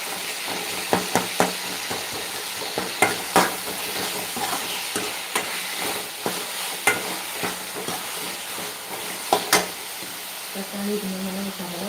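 Crushed spices frying in hot oil for a curry: a soft, steady sizzle broken by irregular clinks and scrapes of stirring, close by and fairly quiet.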